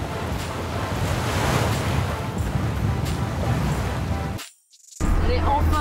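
Ocean surf rolls in as a steady broadband wash with wind buffeting the microphone, continuous and fairly loud, cutting out briefly near the end before resuming.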